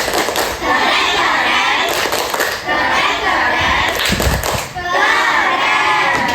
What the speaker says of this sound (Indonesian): Tepuk keren untuk kelompok 1.